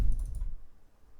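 A few quick computer mouse clicks, a double-click in the Urban Chaos mission editor, come close together at the start and then fade into a quiet room hum.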